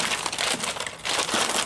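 Close, continuous crinkling of packaging, loud and steady for a couple of seconds with a brief dip midway, as the package holding a 3D-printed Lexus GX460 badge and a 3D sticker is opened. No one speaks.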